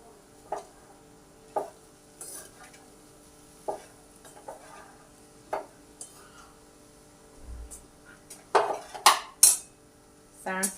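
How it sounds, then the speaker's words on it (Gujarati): Potato poha gets tossed in a pan with tongs, giving sparse metallic clinks and scrapes at irregular intervals over a faint sizzle, building to a quick cluster of louder clatters near the end. "સાણસીથી પકડી હું આને સરખી રીતે મિક્સ કરી દઈશ"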